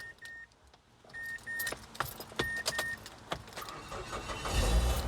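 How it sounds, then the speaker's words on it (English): A Mazda 5 is started using a portable jump starter, the AUTOONE JS02 6000A. Quiet beeps and clicks come first, then the engine turns over and a low rumble swells near the end. "I'm gonna try to crank the Mazda 5."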